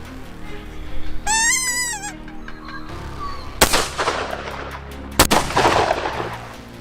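Two loud, sharp rifle gunshots ring out on a hunt in South Africa, spaced a few seconds apart, each followed by a booming echo, after an earlier bleating animal call.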